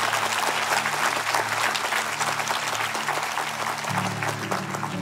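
An audience applauding at a Christmas show in a church setting, dense sustained clapping from a large crowd, loud and even throughout, with some musical tones faintly underneath.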